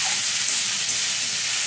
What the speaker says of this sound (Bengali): পেঁয়াজের সাথে ভালো করে সজনে শাকটা মিশিয়ে নিচ্ছি।